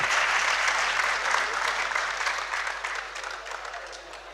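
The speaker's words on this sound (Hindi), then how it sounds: "भरपूर तालियों में इस्तक़बाल कीजिएगा जनाब रईस गौरी" Dense applause fills a mushaira poetry gathering in DG Khan as poet Raees Ghauri is welcomed, loud at first and slowly tapering, a continuous wash of many hands with no speech.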